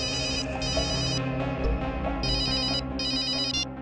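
A telephone rings in two bursts of trilling electronic rings separated by a brief pause, loud and close over a low background hum, with no talking.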